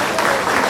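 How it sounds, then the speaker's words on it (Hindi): Audience applause for the poet Ram at a poetry recital: a short, dense burst of clapping from a hall full of people, loud and steady for under a second. "एक बार जोरदार तालियां पूरा सदन राम के लिए"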